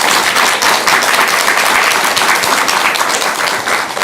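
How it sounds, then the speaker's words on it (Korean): A crowd at a Buddhist-themed Korean talk show breaks into loud, dense applause, a continuous wash of many hands clapping close by for the full few seconds with no voices over it. "우리 송혜경님께 큰 박수 한번 주시기 바랍니다"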